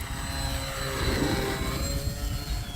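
An Avios Zazzy RC airplane drones steadily overhead, its fast-moving motor giving a continuous whine with a slight swell in the middle, heard alone with wind rumble underneath.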